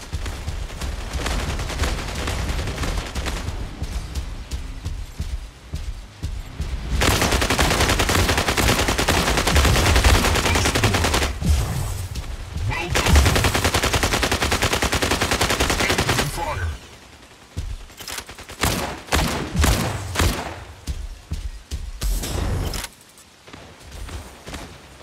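Gunfire in the mobile video game Mech Arena: loud, dense bursts of automatic weapon fire sustained for several seconds, then choppier, broken volleys toward the end.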